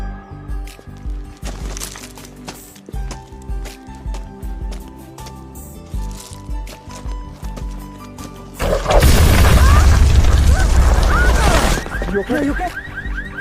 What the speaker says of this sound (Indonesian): Dan bom itu pun meledak.